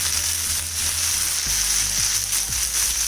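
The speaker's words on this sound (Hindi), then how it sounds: "2 टमाटर लिए हैं, इनको कट करके डाला है। इनको भी भूनना है जब तक ये सॉफ्ट नहीं हो जाते हैं।" Chopped tomatoes frying in a pan on a low to medium flame, a steady close sizzle heard alone with faint low background music.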